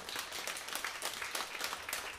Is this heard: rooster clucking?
no